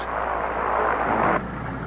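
General aviation light aircraft engine, a loud steady droning hum close by that briefly swells and then drops off slightly.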